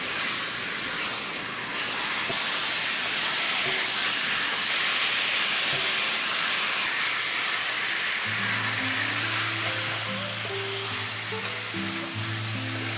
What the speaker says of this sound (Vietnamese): Tăng lửa lớn lên, xào đều tay trong 5 phút.